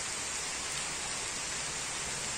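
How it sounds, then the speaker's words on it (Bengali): Rain begins falling outdoors beside a fish pond choked with water hyacinth, a soft, uniform wash of drops holding a steady, fairly quiet level. "বৃষ্টি আওয়াজ তোমরা কি শুনতে পাচ্ছ?"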